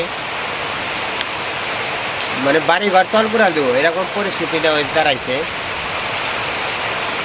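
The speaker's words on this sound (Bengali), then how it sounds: "বৃষ্টির শব্দ পাইছেন?" Heavy rain falls during a storm, a dense continuous hiss that stays level throughout while a person talks over the middle stretch.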